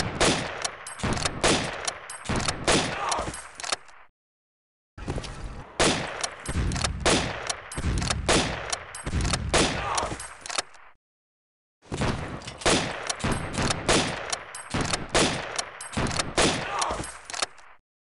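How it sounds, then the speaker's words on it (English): Repeated bursts of tank gunfire and explosions from a T-34 tank attacking a city in Civilization III, three loud rattling volleys with short silent gaps between them, dense and harsh. "This is a T-34 tank attacking the city of Odessa."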